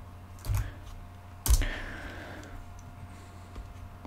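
Two short bursts of clicking keystrokes on a computer keyboard, typed up close in a quiet room while naming a file, separated by about a second of near silence.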